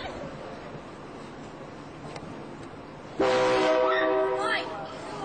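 A train horn sounds in a hornblower recording, a loud sustained tone that breaks in over quiet background noise and holds for about two seconds before fading.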